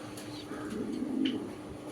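A black male Lahori pigeon, a big-bodied European toy Lahori type, coos at close range in a pigeon sale setting. The low cooing swells in the middle and fades, over a steady background hum.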